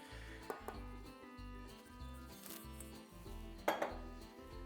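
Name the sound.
mixing flour into gingerbread cookie dough in a bowl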